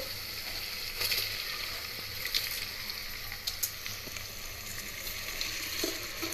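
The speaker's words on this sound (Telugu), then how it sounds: "ఇలా మనం రైస్ కనుక ఆయిల్లో వేయించుకుంటే కొంచెం పొడిపొల్లాడుతూ వస్తుంది." Soaked rice frying in oil with half a spoon of garam masala for coconut pulao gives a quiet, steady crackling sizzle, with occasional sharper pops and light stirring scrapes throughout.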